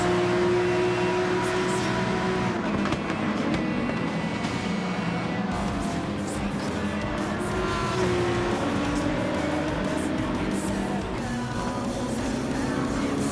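Race cars in a video game, a Lamborghini among them, roar continuously at close range with shifting engine pitch, passing whooshes and occasional tire noise throughout, and no talking.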